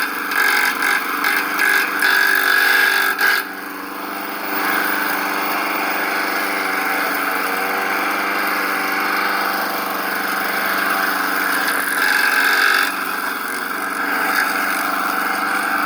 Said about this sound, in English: lawnmower with a bent up blade